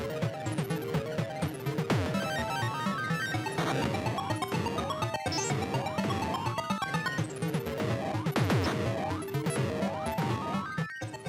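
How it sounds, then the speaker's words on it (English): Dense, busy chiptune game music from the Nintendo Virtual Boy's six-channel stereo sound chip, with layered arpeggiated melodies and sharp percussive hits playing continuously and loudly throughout. "And while Game Boy only had 4 audio channels, Virtual Boy had 6, making it sound like this."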